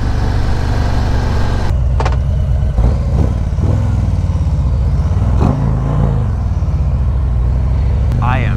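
A 2020 Harley-Davidson CVO Street Glide and a Road Glide Limited accelerate in second gear, a steady loud engine drone with shifting pitch and a few sharp clicks and clatters, no voices over it.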